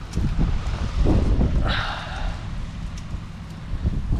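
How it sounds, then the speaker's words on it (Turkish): Steady wind buffets the microphone with low rumbling gusts, joined midway by a brief hissing rustle, outdoors with no talking. "Rüzgar var."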